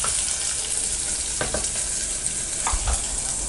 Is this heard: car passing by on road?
no